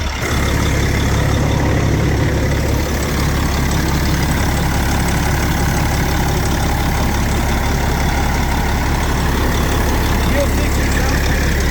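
A truck engine on its first start-up settles into a loud, steady idle, a continuous low rumble held close for the whole stretch with no break in the drone.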